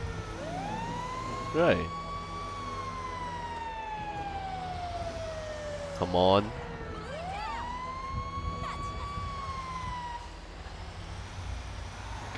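A police siren in Grand Theft Auto V wails, rising and falling in long sweeps over a steady engine rumble, with a couple of short voice bursts and brief honks breaking in.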